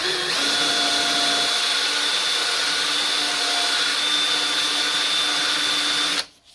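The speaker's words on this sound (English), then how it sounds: "I'm actually honing that slide." A power tool with an abrasive hones a Honda CB100 motorcycle carburettor slide, giving a loud, steady, high-pitched whine that runs unbroken for about six seconds and then cuts off abruptly.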